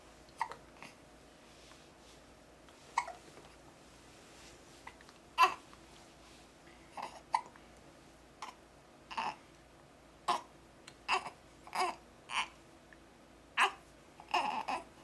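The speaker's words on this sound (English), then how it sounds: "You got the hiccups." A baby hiccups repeatedly in short, irregular bursts mixed with soft babbling and breathy sounds, close and fairly quiet, with the hiccups spaced unevenly across the stretch.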